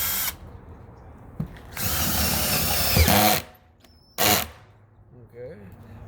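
A power drill tightening a screw, running loudly in two sustained bursts that wind down audibly. Between them come a clunk and a brief whir, and someone speaks at the start and end.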